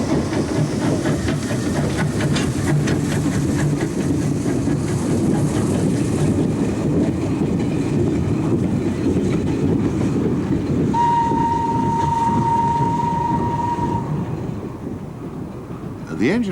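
A Stirling J52 saddle tank steam locomotive working on the Middleton Railway in Leeds, a steady near rumble and hiss of steam with rhythmic wheel clatter, a thin sustained whistle tone near the end before it fades.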